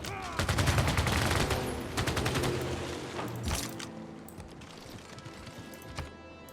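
Gunfire crackles in rapid bursts as units attack in Civilization 6, loud at first, then thinning out into scattered shots that fade.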